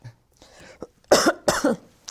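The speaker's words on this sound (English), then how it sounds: "excuse me, I get a cough" Two harsh coughs in quick succession, close and loud, after some quieter throat sounds and breathing.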